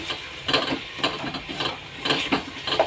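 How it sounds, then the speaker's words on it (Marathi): A copper tambya pot mashes roasted brinjal in a series of roughly half-second thuds, each with a soft, squelchy crunch, close and fairly loud with no voices. "आता माझ्याकडे मॅशर नाही आहे त्यामुळे आपण तांब्याच्या साह्याने ठेचून घेणार आहोत"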